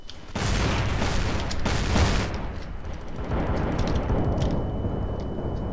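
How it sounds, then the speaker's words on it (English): A grenade explodes in Counter-Strike: Source, a loud broadband blast followed by a second burst and a lingering rumbling roar that slowly fades, with faint ringing above. "That guy was blown backwards with a grenade!"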